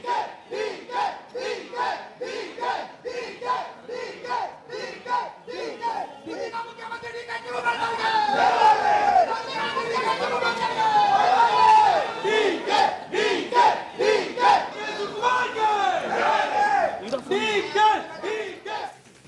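A crowd of Congress supporters chants slogans for DK Shivakumar. Scattered voices in the first few seconds swell into loud, rhythmic group shouting that holds to the end.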